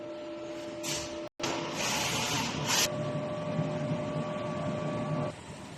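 A DTF printer runs a nozzle test print with a steady mechanical whir and hum. A brief pause comes early, and the motor cuts off near the end.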